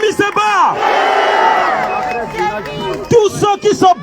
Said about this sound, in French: On applaudit Kémy Séba.